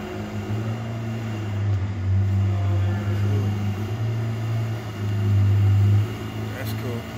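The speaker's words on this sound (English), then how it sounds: "Not every day you hear Ferrari." A Ferrari engine at a Lake Forest car gathering gives a steady low rumble that swells louder twice, with background voices over it.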